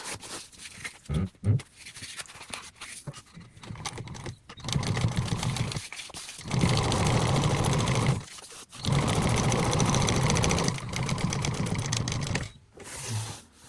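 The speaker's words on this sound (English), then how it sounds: "we're going to top stitch just like we did on the other side" A sewing machine runs top stitching through waterproof canvas in steady motorized bursts, with a few short pauses and stops between long stretches of continuous stitching, close and loud.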